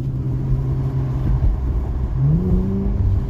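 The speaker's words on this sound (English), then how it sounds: "Downshift revs." An Infiniti Q60 with an AAM exhaust mod rumbles low inside the cabin, then its engine note rises in a short rev blip on a downshift, loud, close and without talk.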